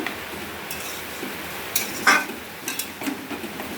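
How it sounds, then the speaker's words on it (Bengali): Mutton is stir-fried in a pot, a soft bed of sizzling broken by scattered metallic scrapes and clinks of a spoon against the pot, close by. "কষানো হচ্ছে। এই যে মটন রান্না হচ্ছে"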